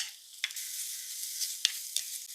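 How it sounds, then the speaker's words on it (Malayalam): Ginger garlic paste, green chilli, shallots and curry leaves frying in hot oil for a Thiruvananthapuram-style fish curry, a steady close sizzle with a few brief stirring scrapes, no voices. "ചൂടായപ്പോൾ ഇഞ്ചി വെളുത്തുള്ളി പേസ്റ്റ് പച്ചമുളക് ചെറിയുള്ളി കുറച്ച് കറിവേപ്പില"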